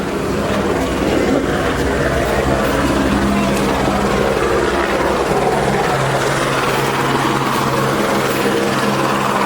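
Helicopter turbine and rotor whine building steadily at the LAPD helicopter center's flight deck, a loud continuous drone with rising tonal hum throughout.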